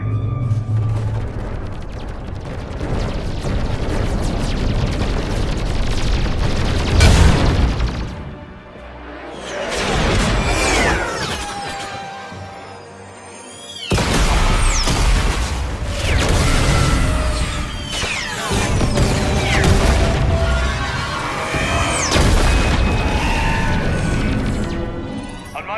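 Fleet weapons firing and explosions in a space battle from the game Mass Effect 3, dense booming bursts and crashes with mechanical whooshes that swell, drop briefly and surge again, mixed with music and sparse voices.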